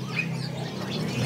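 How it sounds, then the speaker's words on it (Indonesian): A Poksai Rembo bird at a market kiosk gives short chirps over a steady low background hum. "ini ada yang namanya burung Poksai Rembo-rembo"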